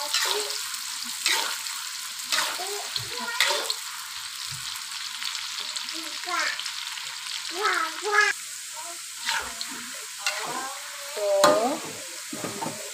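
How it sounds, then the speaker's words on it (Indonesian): Shallots sizzle in hot oil in a pan for a green-chili squid dish, a constant bright frying hiss broken by intermittent scrapes and clinks of stirring, with a short spoken word in between. "Sekarang kita goreng bawangnya teman-teman. Kita goreng bawangnya sampai kuning ya."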